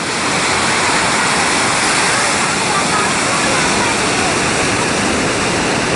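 Surf at Balangan beach in Bali roars as a loud, continuous wash of breaking waves, a thick unbroken rush of water sound close by with no pauses.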